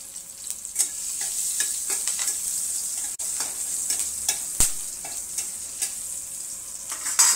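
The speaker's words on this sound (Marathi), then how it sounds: "आपण आता आपल्या मिरच्या टाकणार आहे." Green chillies with salt sizzle and crackle in hot oil for a sweet potato dish, with repeated sharp pops and the scrape of stirring, loud and close, with no talking.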